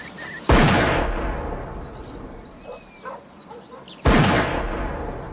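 Two loud, close shotgun blasts during a game-bird shoot, one at the start and one near the end, each with a sharp crack and a rolling echo. Between them come faint outdoor sounds and bird calls.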